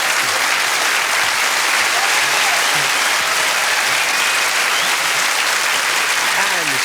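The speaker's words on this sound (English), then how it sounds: "Let's give him a round of applause" A large audience at a hypnosis stage show breaks into loud, sustained applause, a steady dense roar of clapping that holds evenly throughout with crowd noise mixed in.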